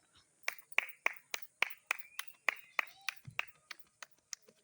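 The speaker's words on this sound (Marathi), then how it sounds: "टाळ्या टाळ्या टाळ्या." Hands clapping at a village Bramhandev festival in Kasvan, Kankavli, a quick run of sharp claps at an uneven rhythm, fairly close, with a brief voice mixed in.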